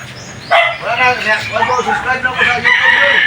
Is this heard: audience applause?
no